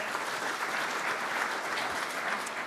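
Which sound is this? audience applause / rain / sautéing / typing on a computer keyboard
audience applause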